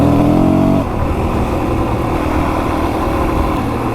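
A Kawasaki KLX400 dirt bike engine runs steadily close by, a loud, even idle-like rumble that drops slightly in pitch after the first second, with no talking.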